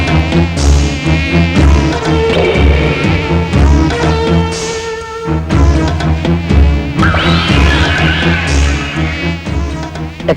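Flies buzz throughout a Telugu comedy film scene from Pellala Rajyam, a loud, continuous drone layered with sustained tonal hums and shifting pitches for about ten seconds, with no talking.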